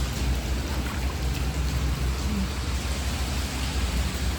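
Steady rain pours down continuously in a flooding spot where children play, a dense even hiss with a low rumble underneath and no voices.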